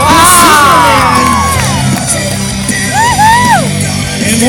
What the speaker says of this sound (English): Come on now, they need some encouragement from the crowd.